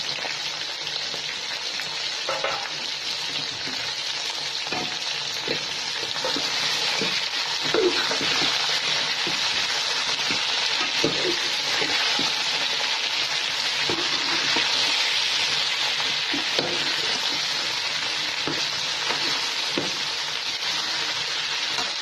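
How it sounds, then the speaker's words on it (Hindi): Okra (bhindi) frying in hot oil, a steady dense sizzle with occasional pops and stirring clicks, continuous and close throughout. "भिंडी डाल के मैं इसको भिंडी को इसी में फ्राई करती हूँ"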